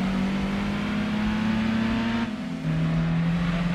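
Race car engines in the Gran Turismo 2 racing game during a Clubman Cup event, a steady, droning engine whine with a brief dip in pitch as cars close in behind, loud and continuous without speech.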